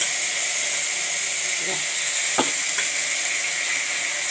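Chili paste dropped into hot oil already holding bay leaf and cumin, giving a loud, dense, steady hiss with a couple of brief spits and crackles as it lands.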